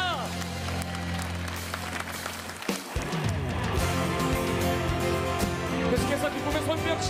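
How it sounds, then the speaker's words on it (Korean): Churchgoers at a Korean Baptist service clap along in thanks, the applause mixed beneath a loud band and organ that swell after a brief pause, with a voice speaking over the music. "우리를 하나 되게 하신 하나님 앞에 감사와 영광의 박수 올려드립시다."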